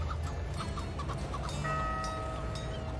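Game chickens clucking in short repeated bursts over a steady ambient soundscape of a medieval city-building game, Patron, with birds and faint background tones, no talk.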